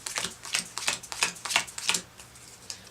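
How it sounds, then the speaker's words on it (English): Game cards for the board game Castilion are being shuffled by hand, a quick run of crisp riffling flutters and soft slaps, close and steady for a few seconds with no talking. "You shuffle these and then you pick 6"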